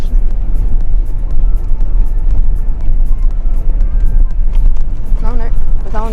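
An Audi rumbles along a bush track toward the beach near Port Victoria, its engine and tyre noise a steady close drone with bumps and rattles, while people talk over it throughout.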